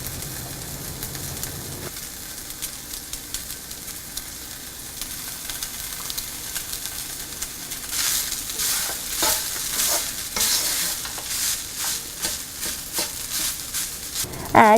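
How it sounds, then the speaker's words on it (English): Lemon juice is mixed into cooked coconut rice, making a soft, steady stirring and scraping sound up close that grows busier toward the end. "To this, squeeze some lemon juice and mix properly."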